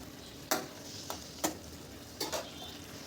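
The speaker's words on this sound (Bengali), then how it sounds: "তরকারিটা একটু ভালো করে নেড়ে দেব।" A spoon stirs a potato, brinjal and lentil-dumpling curry in a pan over a soft, quiet simmer, with four or five distinct scraping strokes spaced irregularly.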